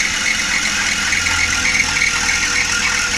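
Suzuki Every Wagon engine idles steadily and loud nearby while a coolant-wet drive belt gives off a continuous high squeal over the hum.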